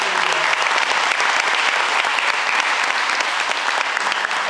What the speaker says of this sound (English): The parents and any players that are here should give a round of applause for your parents